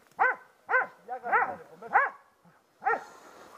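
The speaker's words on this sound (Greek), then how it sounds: "Γάβησαν τα σκυλιά και έκανε." Several dogs bark in a rough sequence of about six sharp, fairly loud barks with short gaps between them, heard close by during a hunt with a Benelli shotgun. No one speaks.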